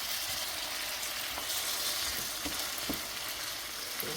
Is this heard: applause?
no